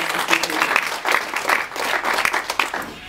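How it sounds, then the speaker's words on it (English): Applause from a talk-radio audience, a steady wash of many hands clapping at moderate loudness with a faint voice underneath. "I think we should give them a round of applause for taking their time to come and speak to us"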